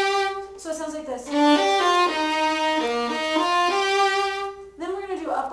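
A violin plays a short passage from Gypsy Waltz with a double stop, several bowed notes moving in steps under steady tone, close and alone, with a voice briefly at the start and end.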